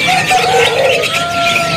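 Young Javan white starlings (jalak putih) chirp and squeal continuously at close range, a busy layered chorus of bird calls filling the whole stretch without any talk.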